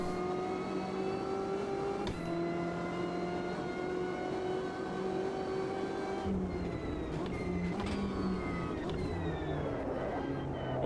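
A BMW M8 GTE race car's engine drones steadily around Laguna Seca in the Automobilista 2 sim, its pitch climbing and dropping through gear changes, with little or no talk.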